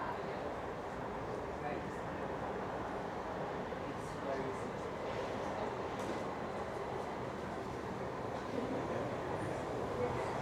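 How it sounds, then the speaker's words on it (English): A steady low rumble of a train rolling into Chichester station, UK, with a constant broad roar and faint rattling, heard from nearby. "There's the train coming in now."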